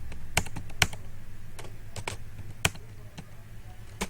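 Typing code on a computer keyboard, a handful of crisp, irregular key clicks close by over a low steady hum, with no speech.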